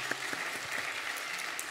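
A church congregation at a Wednesday worship service claps briefly, a soft, distant patter of scattered hands with a low hum underneath.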